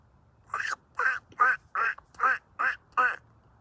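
A human voice imitating geese outdoors: seven evenly spaced, nasal honking calls, each short and loud, with brief pauses between them.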